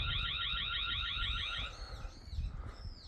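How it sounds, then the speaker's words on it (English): A car alarm blares a fast, loud, warbling electronic siren for about a second and a half, then cuts off into a few fainter chirping tones against background noise. "want to see if I can make the alarm go off"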